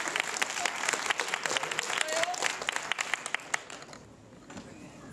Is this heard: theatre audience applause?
yes